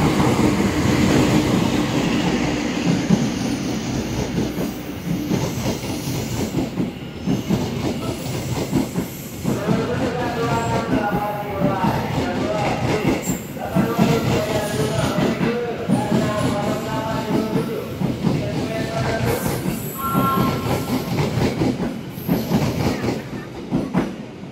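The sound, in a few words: passenger train passing at a Jakarta station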